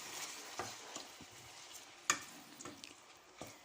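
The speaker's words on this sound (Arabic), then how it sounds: "كنقليه، كنبقى نقلب فيه في داك الزيت." Green broad beans with onion and rice are fried in oil and stirred in a pan. A soft, steady sizzle runs under scattered scrapes and taps of the spoon, close and quiet.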